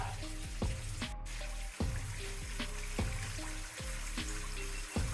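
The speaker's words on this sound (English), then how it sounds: "Underground waterfalls." Underground waterfall in a mine, a steady rushing, splashing water roar with irregular dripping plops over it, close and continuous with no talking.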